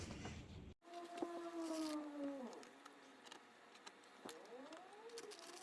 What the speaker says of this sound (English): that's actually the wind that you'll hear throughout the video